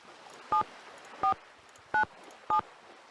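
Telephone keypad tones from the Nancy Drew game Danger on Deception Island beep four times at an even pace, each short, clear and alone over a quiet background.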